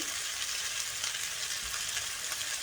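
Chopped carrot, green onion, mushroom and red onion hit a hot pan of high-heat stir-fried spicy chicken, setting off a steady, close, even sizzle that holds without pause and with no talking.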